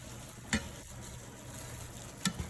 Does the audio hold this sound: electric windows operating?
no